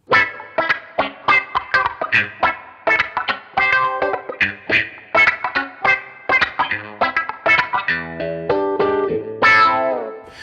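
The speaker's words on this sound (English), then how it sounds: "And that's an auto wah in that instance" Jazz fusion electric guitar played through an auto wah effect, with quick, distorted phrases whose tone sweeps and quacks on each attack, ending in a longer sustained, swelling chord; loud and close with no voices.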